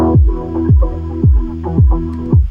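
Four punchy kick drum hits, added under the verse of a slowed pop remix, thump in a steady rhythm. Each deep, booming hit decays over a low sustained bed, with no voices.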